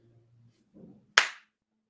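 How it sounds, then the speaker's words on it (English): Two hands meet in a single crisp, loud high-five clap close by, after a few faint low murmurs. "Give a high five to yourself."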